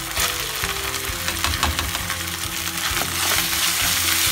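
Tomatoes and onions with asafoetida fry loudly in a pan for a gobi masala, a dense continuous sizzle up close with a few spoon knocks and scrapes as everything is stirred.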